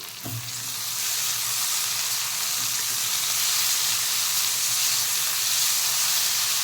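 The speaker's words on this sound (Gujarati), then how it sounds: "અને આ ટાઈમે આપણે ફૂલ ગેસ થોડોક રાખવાનો, અને ટામેટાં અને મરચાં એડ કરવાના, અને આવી રીતે હલાવતા રહેવાનું" Tomatoes and chilies frying in oil over a full gas flame for masala poha, stirred steadily: a loud, continuous hissing sizzle after a brief clatter at the start.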